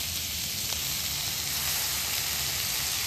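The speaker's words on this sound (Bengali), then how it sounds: "এবারে যে জলটা ঝরিয়ে রেখেছিলাম, পেঁপে দিয়ে দেব।" Drained raw papaya pieces sizzle in a hot pan, a steady, close, hissing fry with a faint clink partway through.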